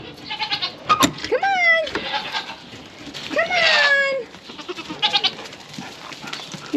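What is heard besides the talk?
goats bleating as they are let out into the yard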